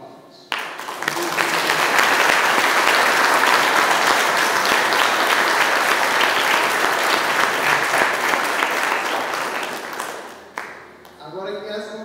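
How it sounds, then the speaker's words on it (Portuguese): Congregation applause in a church during a First Communion Mass, starting abruptly after a voice, swelling into long, dense clapping, then fading as speech resumes over the last seconds. "nós merecemos uma calorosa salva de palmas"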